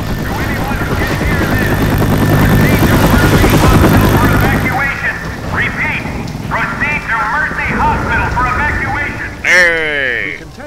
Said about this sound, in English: I can't hear them from that whole entire helicopter